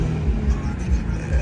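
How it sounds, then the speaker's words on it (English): Infiniti Q50S with its muffler deleted rumbles in a deep, steady engine note that swells slightly as it revs, close and loud throughout a short burst. "I'm gonna rev it a few times"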